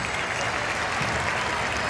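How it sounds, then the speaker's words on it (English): A big baseball crowd at Shea Stadium in New York applauds the departing color guard, a dense, steady roar of clapping that spreads evenly across the stands. "And now another stirring round of applause for the color guard as it departs through the center field gate"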